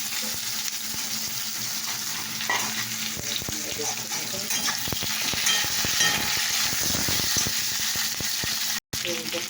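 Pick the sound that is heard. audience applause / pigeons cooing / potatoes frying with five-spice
potatoes frying with five-spice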